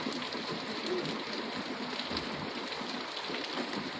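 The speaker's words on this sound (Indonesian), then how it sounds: "Hujan-hujan." Rain falls steadily as a dense, even hiss that fills the whole short stretch, with a faint low hum underneath and no voices.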